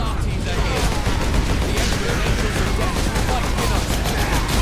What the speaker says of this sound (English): Luckily our bolter seems to rip through them rather quickly, even the big guys.